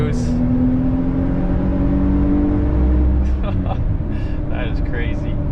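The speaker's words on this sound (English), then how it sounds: "You pass Camrys in a Jeep lifted with 42s." A lifted Jeep on 42-inch tires accelerates hard, its engine a loud, steady rising drone close by with road and tire roar throughout, and faint voices over the top.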